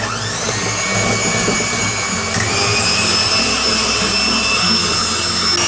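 Electric hand mixer whipping egg-white icing with a few drops of lemon juice, a steady loud whirring drone with a high whine, running continuously without talk.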